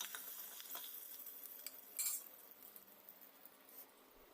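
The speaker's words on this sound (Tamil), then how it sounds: "இப்போ கசகசா, சோம்பு, மிளகு, ஜீரகம் எல்லாத்தையும் போட்டு வறுத்தெடுத்துக்கணும்." Poppy seeds, fennel, black pepper, cumin and about ten curry leaves frying and being stirred in a pan for chicken gravy, giving a soft, steady sizzle with light scraping and a brief clink near the middle.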